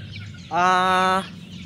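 Tornado hatch straight comb chicken, about three months old, giving a single close, loud, drawn-out cluck lasting under a second over quiet background.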